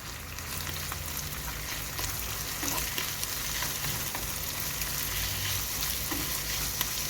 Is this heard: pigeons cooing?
no